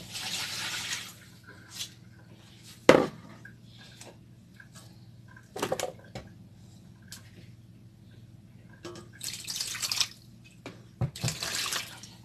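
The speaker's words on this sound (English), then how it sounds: "I'm going to pour it away." Rinse water poured off meat being washed for pepper soup, heard as a few short splashing gushes and trickles into a sink, spaced apart with quiet dripping between, close by and without talk.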